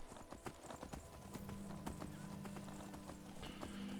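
Horse hooves clip-clop steadily in Skyrim, a close, moderately loud gait of repeated hoofbeats over a busy game soundscape, with a sustained low tone joining partway through.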